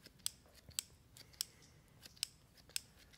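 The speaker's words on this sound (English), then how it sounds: "Now, little trims, cutting it up into small pieces." Scissors trim sphagnum moss into small pieces, producing six crisp, evenly spaced snips close up against a quiet background.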